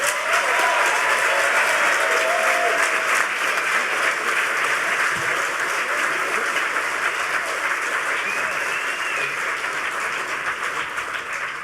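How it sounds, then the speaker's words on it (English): An audience at a live hacker conference gives sustained applause for a social engineering panel, a dense wash of clapping filling the room that fades slightly toward the end. "please everybody give a huge round of applause"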